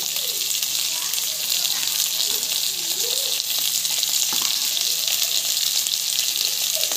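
Green chillies and onion fry in a pan with biryani spices, giving a steady, close sizzle that runs the whole time with faint stirring movements and no talk over it.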